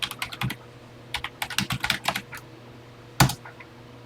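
Keys clack on a TI computer keyboard in irregular bursts, quick runs of taps broken by short pauses and one harder stroke near the end, close and clear with no talking.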